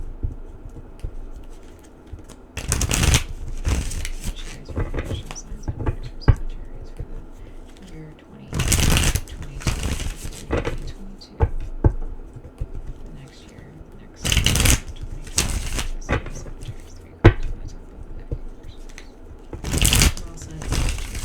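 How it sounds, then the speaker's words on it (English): Tarot cards shuffled and drawn by hand, several bursts of crisp riffling and flicking card noise spaced out over a quiet room, with a voice talking between them. "I'm going to pull 3 cards from the tarot for you"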